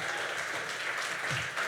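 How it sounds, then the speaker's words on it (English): An audience at a Fuckup Nights event in Toronto gives a speaker a short burst of dense, continuous applause from many hands, fairly close and steady. "Big round of applause for Joseph."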